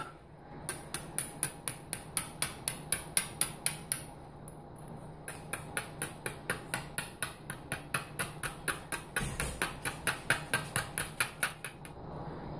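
Stone knapped into an arrowhead with a long run of small, sharp, clicking chips at a steady rhythm, close and fairly quiet, with a brief pause midway before the tapping resumes.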